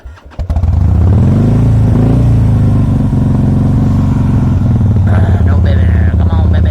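A Harley motorcycle engine fires up and runs close by with a loud, rough, uneven idle, sputtering and struggling as if about to stall; a person's voice is faintly heard over it.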